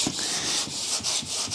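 Wet sanding of BMW E46 paint with fine 2000 grit sandpaper makes a close, rhythmic back-and-forth rubbing, about six strokes of soft, even scuffing with no talk.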